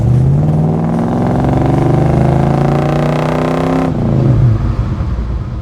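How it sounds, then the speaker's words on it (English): A 1973 Chevelle Deluxe muscle car with a Turbo 350 automatic drives past steadily, its V8 engine note holding a smooth rising drone before dropping sharply as the transmission shifts down, then settling into a lower rumble. "Transmission shifts down nicely."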